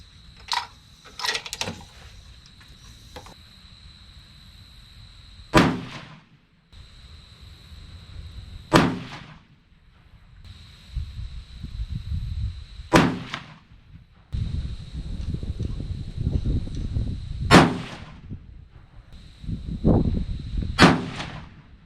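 Five sharp 6.5 PRC rifle shots loaded with H1000 powder crack out one at a time, spaced several seconds apart, each loud and abrupt with a short rumbling tail, and faint outdoor noise fills the gaps.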